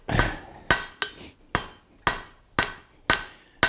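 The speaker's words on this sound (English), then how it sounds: "So, first of all, very simply, we're going to draw this taper." A blacksmith hammers hot iron to draw a taper for a nail header, with eight sharp, ringing hammer blows at a steady, close pace, each decaying briefly before the next.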